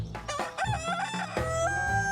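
Chickens in a basket squawk and cluck loudly at close range, a rapid jumble of overlapping sharp calls and rising crow-like cries filling the moment.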